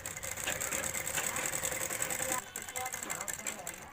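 A sewing machine runs steadily while stitching a handled box-style shopping bag, a continuous close mechanical whir with a brief pause near the middle before resuming.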